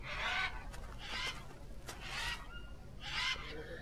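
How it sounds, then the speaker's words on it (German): Birds call in the Green Hell video game jungle, giving four clucking, squawking bursts at roughly even intervals, fairly faint against quiet ambience, with no speech. "die Vögel nerven"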